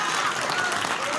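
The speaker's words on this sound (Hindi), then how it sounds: "जो बच्चे ताली बजा रहे हैं" Children in an audience clap steadily, a dense burst of applause that is loud and continuous throughout with no break.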